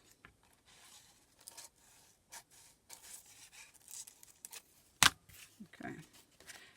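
Scissors snipping through paper while making a junk journal, faint and close, with soft rustling and small handling noises and one sharp brief snip-like click near the end.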